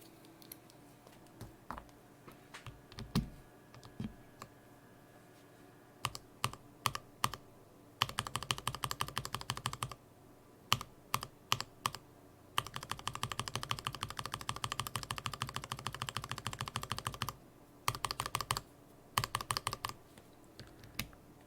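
Keystrokes on a mechanical keyboard fitted with lubed Alpaca v2 switches: sparse single clacks at first, then bursts of steady fast typing, close and clear, with no talking.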